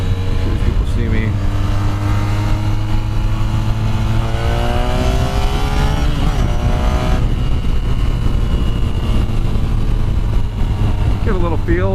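A 2010 Honda VFR1200F engine revs hard while riding, rising and falling pitch sweeping through the gears with a steady loud drone underneath, and someone talks over it throughout.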